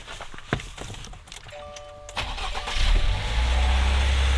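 A car engine cranks with some rattling, then catches and settles into a low, steady idle nearby.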